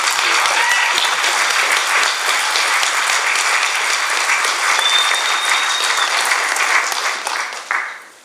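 An audience claps steadily through a keynote talk at an energy fair, dense and sustained before fading out near the end, with no voices over it.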